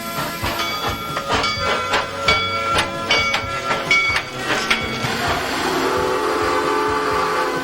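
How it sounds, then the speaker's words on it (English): An old-fashioned steam engine train on the Transvelt Railway at Busch Gardens Tampa chugs along with rhythmic clanking and hissing, then a loud sustained whistle blows over the running train. "Around on one of the Transvelt Railway's old-fashioned steam engine trains."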